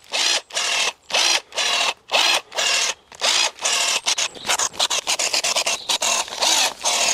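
DeWalt battery pruning shears cutting tree branches, a series of short motorized whirring bursts, slow and evenly spaced at first, then quicker and more clipped, close and clear with no talk.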